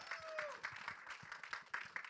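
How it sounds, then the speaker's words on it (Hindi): An audience at the Dream Girl film trailer launch event claps in a quick run of scattered, fairly faint claps that rise and fall over a couple of seconds. "जोरदार तालियां बजा दें एक बार आप लोग."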